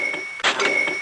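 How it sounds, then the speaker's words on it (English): Shopify sale notification in the style of a cash register: a brief bright ring and clatter lasting under a second, heard alone and fairly close. "It's the sound of another sale on Shopify"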